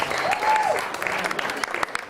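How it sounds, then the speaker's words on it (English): A wedding crowd applauds with steady, dense clapping throughout, loud and close, with a brief voice briefly audible at the start. "Let's have a round of applause for Michael tonight."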